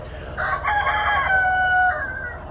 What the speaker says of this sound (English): Told you it was a chicken.